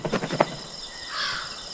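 A bird gives a few sharp calls close by, followed by a higher, drawn-out whistling cry, with no one speaking.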